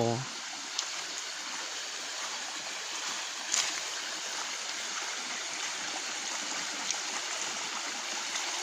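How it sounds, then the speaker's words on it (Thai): Steady broadband rush of flowing water, a stream running continuously with a few faint clicks over the top. "เสียงน้ำโอ้น้ำไหล"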